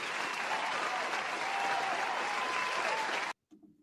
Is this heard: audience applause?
yes